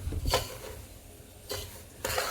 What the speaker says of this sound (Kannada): ಈಗ ಉಪ್ಪಿಟ್ಟು ಮಾಡ್ಬೇಕಂತಂದ್ರೆ ರವೆ ಸ್ವಲ್ಪ ಹುರಿಯಾಕತ್ತೀನಿ ರೀ.